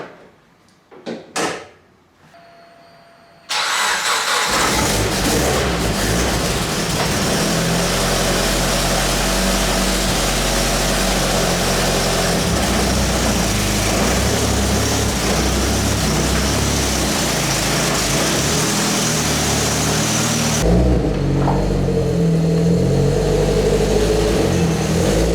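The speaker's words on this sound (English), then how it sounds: "let's start the car up" After a few quiet knocks, a Mitsubishi Lancer Evo X engine with an HKS HiPower exhaust starts abruptly and runs loudly with a steady roar, then drops to a lower idle near the end.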